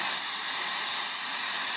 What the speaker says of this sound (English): you can spray it with, I use starting fluid, it's ether